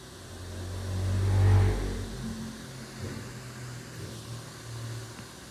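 A compressor flywheel driven by a chain transmission runs with a steady low mechanical drone. It swells briefly early on, then settles into an even rumbling hum.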